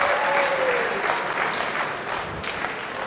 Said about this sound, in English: And boy, did that get the crowd going again